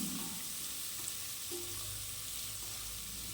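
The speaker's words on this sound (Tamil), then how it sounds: "நல்லா ஒரு கண்ணாடி பதம் வர வரைக்கும் நம்ம வெங்காயம் வதக்கி எடுத்துக்கலாம்" Chopped onions with ginger and curry leaves sauté in a pan for rice upma, giving a steady, close sizzle and frying crackle with faint stirring and no talking.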